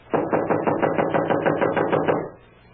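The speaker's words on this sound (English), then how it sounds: "knock again" A door is knocked on about a dozen times in a quick, even run of sharp raps. The knocks sound close and loud, then stop and leave faint room tone.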